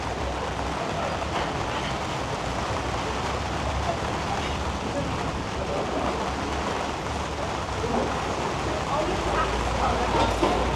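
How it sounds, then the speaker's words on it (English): Heavy rain pouring down outdoors in San Eugenio, a steady dense hiss and patter that stays constant throughout, with people talking faintly underneath. "So let me show you the rain and the people scurrying."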